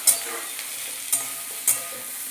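Vegetable chorchori (bagan chorchori) fries in a pan while a spatula stirs it: a continuous close sizzle with three distinct scraping strokes spaced through it, and no voices.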